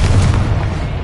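A Confringo spell explosion in a video game, a single loud, deep boom with a rumbling, bass-heavy body that stays dense throughout the short burst, up close and with no talking.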